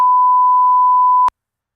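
A single steady censor beep, a pure loud tone held for just over a second and then cut off abruptly into silence.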